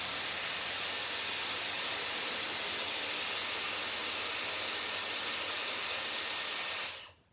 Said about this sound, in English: there's going to be a burst of air blow drying in this direction